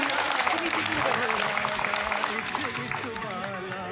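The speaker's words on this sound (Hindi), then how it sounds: "जोरदार तालियों के साथ स्वागत कीजिए" Steady applause from a crowd, with a voice talking over the clapping throughout.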